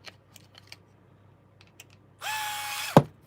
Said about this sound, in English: I'm actually going to crank up the torque a little bit so I can get this locked in